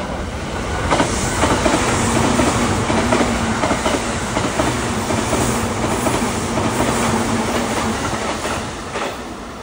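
A Joban Line train in Japan rumbles along the rails, wheels clacking in a steady rhythm, loud and close the whole time.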